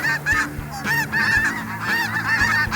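A large flock of spring snow geese honks overhead, a dense chorus of repeated high nasal calls overlapping in quick succession, loud and continuous.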